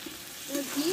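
Ghee and a spoonful of roasted spice sizzle softly in a pan while being stirred for a pumpkin dish, a brief low frying hiss with light scraping movement.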